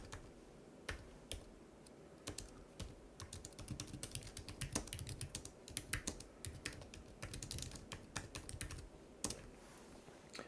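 Fingers type on a computer keyboard while writing text in Microsoft Word, producing quick, irregular clusters of close, crisp key clicks with short pauses between bursts.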